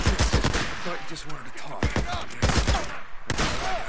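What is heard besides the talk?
gunfire in the video game Days Gone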